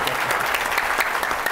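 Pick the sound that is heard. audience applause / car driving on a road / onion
audience applause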